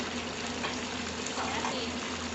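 Oil for frying fish-sauce chicken wings comes to a boil, giving a steady, even bubbling hiss throughout.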